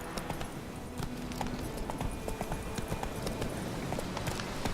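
Roach the horse from The Witcher video game clip-clops along at a walking pace, its hooves striking in a steady, fairly soft rhythm against a low background with no talk.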